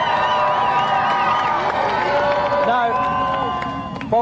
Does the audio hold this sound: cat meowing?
no